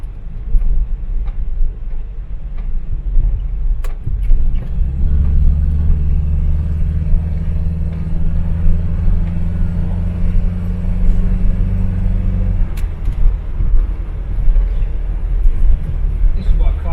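A Ford Cortina MK3 classic car driving along a road at night, its steady low engine and road rumble filling the cabin loudly throughout, deepening into a stronger drone midway before easing again.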